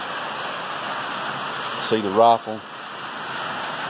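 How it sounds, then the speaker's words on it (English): Moderate rain falls steadily on a metal roof as a soft, even background hiss, while someone speaks briefly nearby over it. "You can hear the rain in the background."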